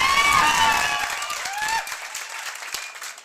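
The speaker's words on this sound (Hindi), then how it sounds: "तो एक बार जोरदार ताली अभिषेक सर के लिए" A crowd of students at a Haryana coaching event bursts into loud applause and cheering for a guest teacher, dense clapping with whistles on top that gradually thins out.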